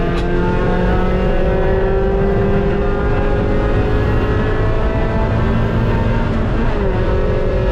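A race car engine howls loudly and continuously during a race at Mid Ohio, holding a high steady drone with slight pitch shifts as it carries speed through turns.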